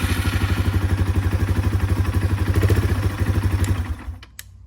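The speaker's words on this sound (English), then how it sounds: "Hold your brake lever to keep you from rolling, and press on the electric start button." A motorcycle engine running after an electric start, a loud, close, rapid rhythmic thumping idle that holds steady before cutting off near the end with a final clatter.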